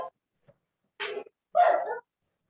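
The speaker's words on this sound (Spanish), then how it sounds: "ahí hay un perrito ladrando, se va." A small dog gives two short, yappy barks close by, with a faint brief sound before them and silence around them.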